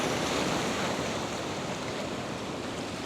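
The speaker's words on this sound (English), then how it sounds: "You can see the wave coming in." Ocean surf rolling in against an edge, a steady broadband wash of breaking water with wind noise, close and loud, no voices.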